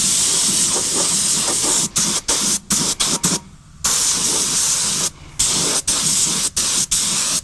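A spray gun applies a thin Cerakote coating to a transmission part for an AWD Civic Type R, loud continuous hissing bursts cut by short pauses and two longer gaps between passes.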